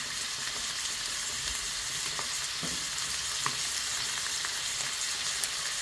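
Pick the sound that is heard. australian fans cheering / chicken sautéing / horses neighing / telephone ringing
chicken sautéing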